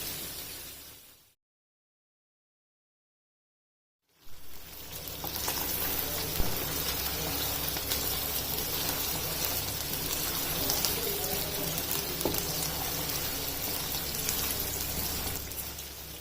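Chicken frying in oil for karahi, a steady dense sizzle like heavy rain that starts after a brief silence and continues evenly at close range.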